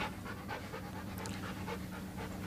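A dog in an office pants quickly and steadily, close and moderately loud, with a faint background hiss and no voices.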